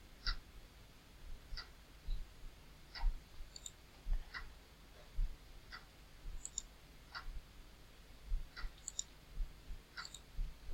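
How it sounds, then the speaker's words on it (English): A computer mouse clicking through chart settings, a string of soft, evenly spaced single clicks, close and quiet, with no talk over them. "So you come here, click on the settings,"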